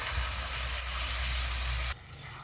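Spice paste of turmeric, chilli powder, coriander powder, green chilli and garlic paste frying in a pan gives a loud, steady sizzle, then the hiss drops abruptly near the end.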